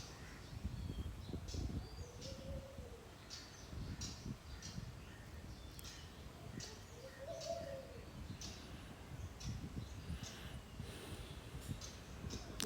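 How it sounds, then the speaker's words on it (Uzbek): Birds, including pigeons or doves cooing, call now and then from the gardens of the Amphoras Beach hotel in Sharm el-Sheikh, Egypt, faint and spread out over a steady outdoor background. "Mehmonxonamizni bog'larida mana har xil qushlar yuradi."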